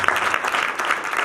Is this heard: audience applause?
yes